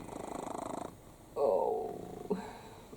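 Close, steady purring from a sleepy cat in a garden, pulsing in even rhythmic cycles, pausing and then resuming louder, with a short snort.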